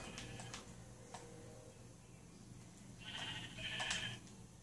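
Faint electronic Minecraft sheep bleats, two short nasal calls close together, over a low steady hum with a few soft ticks before them.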